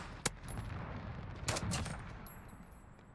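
Gunfire in Team Fortress 2 comes as a few faint, sharp shots: a single crack, then a couple more close together, over a steady background hiss.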